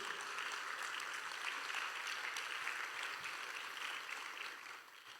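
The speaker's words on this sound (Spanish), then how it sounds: "Dale fuerte el aplauso si es para Dios." Steady applause from a church congregation, loud and continuous at mid distance, fading slightly toward the end with no voice over it.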